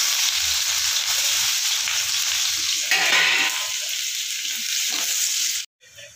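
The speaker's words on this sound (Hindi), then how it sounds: "ये प्याज डाल रहे हैं।" Onion sizzling and frying in hot oil with cinnamon, cloves and cardamom in a pan, a steady close crackle with stirring, briefly louder near the middle and cutting off near the end.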